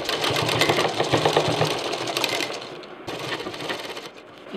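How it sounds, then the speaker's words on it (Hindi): A sewing machine stitches a zipper into the centre of a handmade backpack, a loud rapid mechanical chatter up close that eases off partway, then resumes briefly before fading. "यहाँ सेंटर पे जिप पर रखते हुए सेंटर पे इसको हम सिल देंगे।"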